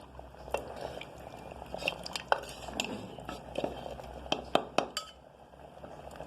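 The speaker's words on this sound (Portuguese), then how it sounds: "já mexi a panela, tá vendo?" Ox tongue is stirred in a cooking pot with a utensil, producing scattered metallic clinks and scrapes against the pot, fairly quiet and irregular, with no talking.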